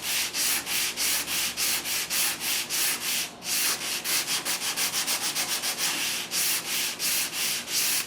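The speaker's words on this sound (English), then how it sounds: "Take a sanding block and start to work on it." A sanding block scrubs across a new 12-string guitar top in a garage workshop, loud and close, with steady rhythmic strokes that quicken briefly partway through and then settle back into an even pace.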